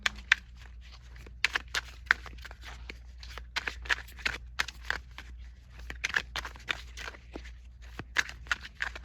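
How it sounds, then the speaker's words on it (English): Quick papery flicks and soft riffling as a deck of tarot cards is shuffled, in irregular bursts over a low background hum. "I'm gonna shuffle a little bit and see if there's one more card I can pull from here."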